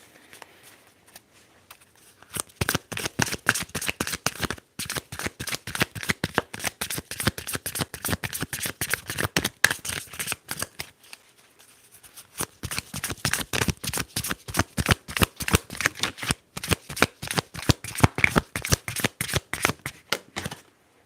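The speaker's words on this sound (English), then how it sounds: "Let's keep shuffling." Tarot cards being shuffled by hand, close and crisp, in rapid riffling bursts with two brief pauses, around 2 and 11 seconds in, before the shuffling resumes.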